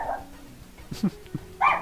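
A dog gives a couple of short close barks and a yip, with faint talk and game sounds behind.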